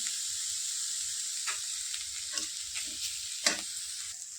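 Grated coconut frying in a wok, giving a steady, close hiss with soft scraping stirs now and then and one sharper clatter near the end, with no voices.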